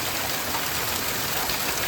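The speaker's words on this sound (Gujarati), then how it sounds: "મિત્રો આવો વરસાદ ને આવો પવન ચાલુ ને છતાંય આજે લાઈટ રહી ગઈ" Heavy rain and wind in a village make a dense, steady wash of noise throughout, loud and close, with no voices.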